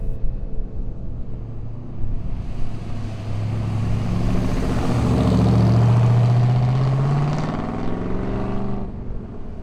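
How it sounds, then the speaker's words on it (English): A 1967 Ford Galaxie 500 XL with the 7-litre R-code 427 V8 runs close by, its deep engine rumble swelling as it revs up and passes before easing back down. "Our 67 Galaxie 500 XL is fitted with the 7-liter sports package and hides a legendary V8 under the hood"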